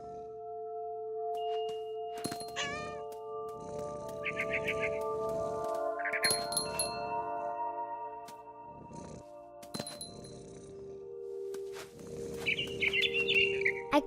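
Birds chirp in the video game What Remains of Edith Finch, with short bursts of tweets now and then over soft ambient hum, while a voice narrates across most of it.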